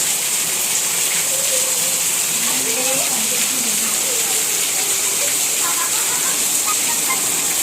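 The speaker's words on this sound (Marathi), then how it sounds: "मुसळधार पाऊस पडतो इथे हे बघा" Steady, dense hiss of heavy monsoon rain pouring down, with a voice talking faintly underneath.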